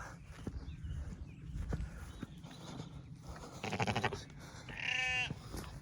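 Two clear sheep bleats sound outdoors on a farm during lambing week, one mid-clip and a louder wavering call near the end, over rustling wind and faint footsteps.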